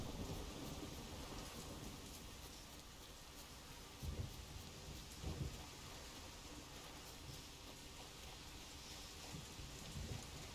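Steady heavy rainfall with a low rolling rumble of thunder swelling around the middle, from a rainy Scotland-like fantasy region in the video game The Witcher 3; continuous and fairly loud, with no voices.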